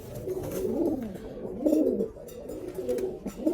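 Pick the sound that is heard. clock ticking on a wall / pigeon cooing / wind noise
pigeon cooing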